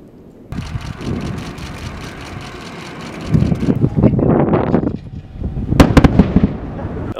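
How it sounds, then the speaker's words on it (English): Sonic boom from a SpaceX Falcon first stage returning to land at LZ1, a series of loud rumbling cracks and thuds heard from a distance, building in bursts over several seconds. "there will be a loud sonic boom that will occur right about the time of landing"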